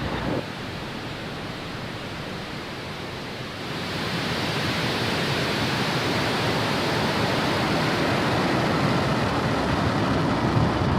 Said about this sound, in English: Ignition, and we have liftoff.